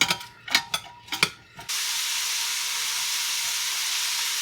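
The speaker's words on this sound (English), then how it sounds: "we're just going to stir that in the olive oil until until the onions are somewhat translucent" Onions stirred and sautéed in olive oil for a Louisiana gumbo: a few sharp scraping stirs at the start, then a steady, loud sizzling hiss that carries on without pause.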